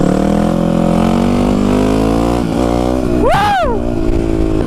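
Close, loud 4-stroke supermoto motorcycle engine holding a steady throbbing rumble, with a quick rev dip and a sharp rising-falling revving burst near the end.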